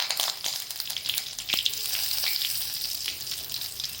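Curry leaves hit hot oil already crackling with cumin, mustard seeds and asafoetida for a methi rassa tempering, giving a bright sputtering sizzle with sharp pops and crackles close by.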